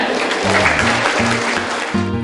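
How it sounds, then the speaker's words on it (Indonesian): An audience applauds at an event honouring the oldest jamu gendong herbal drink seller in Indonesia, loud continuous clapping with a voice talking over it. "Dia tepuk tangan."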